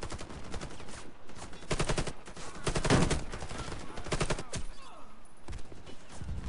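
Bursts of FY-47 rifle fire in the shooter Warface, loud and near, arriving in repeated rapid volleys with short gaps between them, and some game noise underneath.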